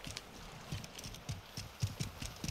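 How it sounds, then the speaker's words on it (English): Footsteps in the video game Modern Warfare II during a free-for-all match, a quiet, steady series of about ten soft thudding steps in an even rhythm. "I heard the footsteps."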